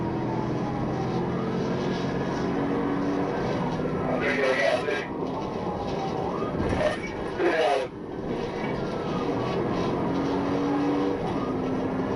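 A Honda Accord street racer speeding on roads in an Atlanta high-speed police chase, with steady engine roar, passing whooshes and a helicopter-like drone overhead, under a talking voice.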